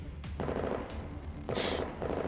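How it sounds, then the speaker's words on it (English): Pursuers fire guns in a vehicle chase scene from the video game Girls Frontline, giving a burst of rapid gunfire with sharp cracks over a steady rumbling background, with no talk. "Gunshots ring out from behind us."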